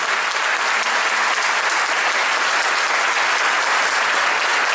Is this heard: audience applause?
yes